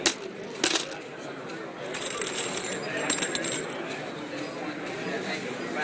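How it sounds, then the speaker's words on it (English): Empty brass shell casings clinking and rattling at a gun show, a couple of sharp metallic bursts up front followed by softer jingling amid a crowded hall's background chatter. "Love the sound of empty shells."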